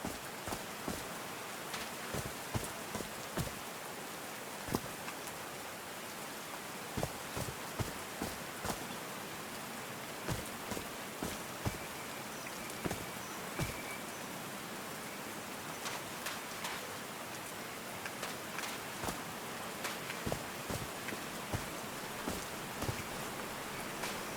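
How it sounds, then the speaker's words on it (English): Steady rain falls in the Call of the Sea video game, a dense patter of drops with sharper individual splashes scattered throughout, continuous and fairly soft with no talk over it. "These drops of rain are so refreshing."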